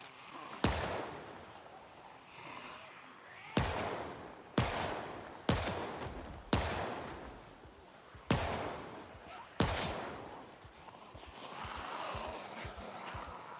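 Rifle gunfire in Project Zomboid Build 42 shooting zombies, seven sharp loud shots spaced a second or two apart, each ringing out between quieter gaps.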